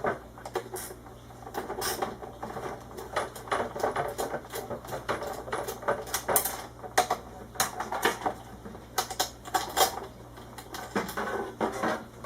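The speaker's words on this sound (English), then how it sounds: "unscrew this grounding lug here." A grounding lug is being unscrewed during an X-ray developer machine teardown, giving close, rapid metallic clicking and ratcheting taps in uneven bursts with brief pauses.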